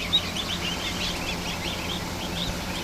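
Newly hatched ducklings chirp steadily in a rapid, overlapping chorus at a rescue hatching setup, close and fairly loud over a low background hum, with no talking.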